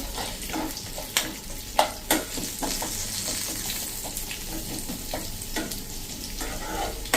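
Chana dal lightly roasts in a pan with a continuous soft sizzle, broken by occasional scraping stirs and clinks of a spoon against the pan, close and without talk.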